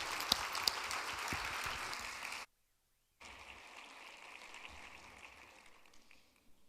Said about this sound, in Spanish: les pido un aplauso de los buenos para Cristóbal.